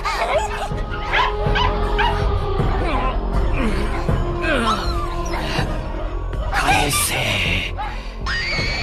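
An anime dog barking and yipping amid high-pitched cries and whimpering, loud and busy over a dense soundtrack, with a voice shouting briefly.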